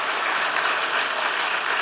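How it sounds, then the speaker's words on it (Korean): A church congregation applauding during a Sunday morning service, a dense, even burst of many hands clapping at once that fills the space without a break. "우리 뜨거운 박수 한번 하겠습니다."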